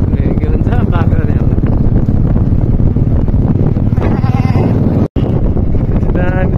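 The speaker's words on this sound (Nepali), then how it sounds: "ल्याङ ल्याङ गर्दैछ के भन्छ बाख्राले" A goat on a roadside path bleats repeatedly in loud, wavering calls, close to the microphone, with wind buffeting and people talking alongside.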